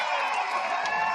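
A volleyball crowd at an Arizona State vs USC match murmurs and stirs during a tight end of a set, a steady broad wash of many voices with faint cheers rising from the arena.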